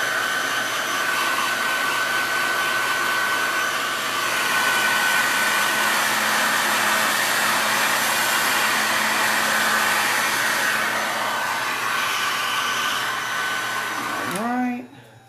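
A hair dryer blowing on chalk paint over a transfer runs as a steady, close, loud whirring hum for most of the stretch, then cuts off near the end.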